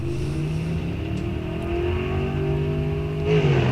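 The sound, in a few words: 1964 Chevelle drag car revving at the start line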